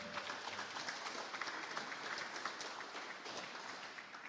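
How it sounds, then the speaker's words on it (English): Scattered audience clapping at a Rotary Club meeting, a modest, fairly even patter of many hands heard alone from a moderate distance for several seconds. "Thank you for that smattering of applause"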